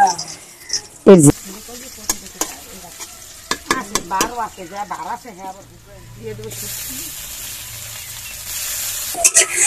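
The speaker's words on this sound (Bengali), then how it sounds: "শুটকিটা দিয়ে দিলাম বন্ধুরা, তো শুটকিটা একটু ভেজে নিচ্ছি।" Dried fish (shutki) frying in a pan over a wood fire, a low sizzle that swells into a louder hiss toward the end, with a voice talking over much of it.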